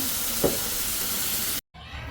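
Food sizzles in a pan in a home kitchen as a steady, close hiss with one brief thump, broken by a short gap of silence before the sizzling resumes.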